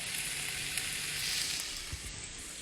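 Cilantro, olive oil and water sizzle in a pan while cooking guanimes con bacalao, a soft, steady frying hiss with no talk.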